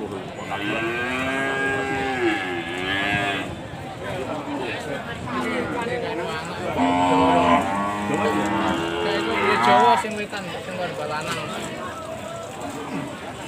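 Cattle moo repeatedly in long, drawn-out calls at the Kragan cattle market, several animals overlapping amid a busy crowd murmur and people talking nearby.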